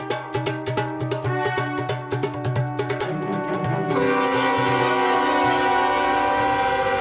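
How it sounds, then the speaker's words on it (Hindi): A train arriving at a station sounds its horn or whistle in sustained tonal blasts over the rumble and clatter of rail cars, loud and close, with the horn tone holding steady through the latter half. "नेताजी के ट्रेन की सीटी बज गई।"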